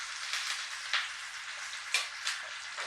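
Chicken pakoda deep frying in hot oil makes a steady bright hiss with a few sharper spits and pops, heard close but at a fairly low level with no talking.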